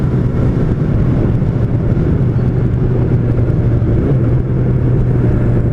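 A Yamaha FZ8N motorcycle engine drones steadily while riding, with a low, sustained hum and slight pitch shifts under road and wind noise, close and loud.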